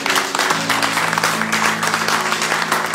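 A church congregation applauding together, a steady, dense wash of clapping that stays loud and even from start to finish, with a sustained tone from music running faintly underneath.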